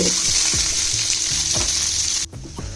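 Chopped onion sizzles in a little hot oil in a wok, a steady close frying hiss with rhythmic scraping stirs, briefly dipping near the end.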